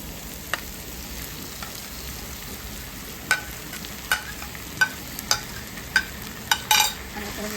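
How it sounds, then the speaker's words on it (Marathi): Smashed eggplant tipped onto cooked onions in a hot pan for Maharashtrian vangi bharit, a steady close sizzle with a run of sharp spoon-on-pan stirring knocks toward the end and no talking. "आता आपण हे स्मॅश केलेलं वांगं टाकूया."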